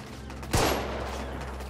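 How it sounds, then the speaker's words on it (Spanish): A single sharp gunshot cracks out in The Order 1886 video game, followed by a fading reverberant tail over low game ambience. "¿Ese disparo?"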